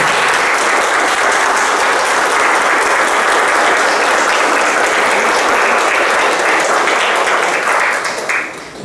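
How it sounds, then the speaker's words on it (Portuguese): A church congregation gives a long round of applause, dense sustained clapping that stays loud and even before tapering off at the very end. "Vamos dar uma salva de palmas."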